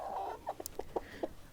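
Several chickens, including blue lace red Wyandotte and splash birds, cluck in short bursts close by at a homestead coop in Canada, with a brief higher squawk partway through and no talking.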